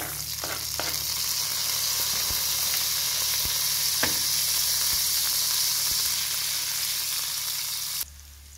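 Chopped onion drops into a pan of browning garlic, setting off a loud, steady frying sizzle with a few light taps and clicks from the pan, before the sound cuts off abruptly near the end.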